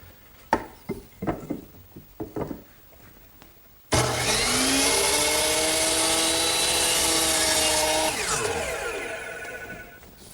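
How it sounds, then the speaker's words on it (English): A power miter saw spins up and bites through wood for a mitered corner on an English garden bench armrest, a loud sustained whine with falling tones as it winds down, after a few sharp knocks of handling. "So I'm going to use my power miter box to make that cut."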